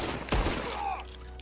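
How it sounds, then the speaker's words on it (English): A sharp burst of overlapping gunshots from Red Dead Redemption 2 cracks out loudly once and then rings off in a lingering, echoing tail. "Now, I'm shooting."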